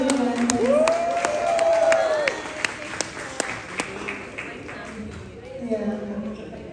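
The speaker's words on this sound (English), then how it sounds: "let's give a round of applause for her." A pageant audience applauds and cheers, with scattered claps and whoops under a loud voice speaking over the crowd; the clapping thins toward the end.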